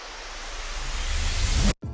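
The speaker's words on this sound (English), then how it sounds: "I reversed some Foley and some sweeps to make a whoosh sound effect." Reversed foley layered with noise sweeps forms a rising whoosh effect for a future bass buildup, swelling steadily in loudness before cutting off abruptly near the end, with a brief tail after the gap.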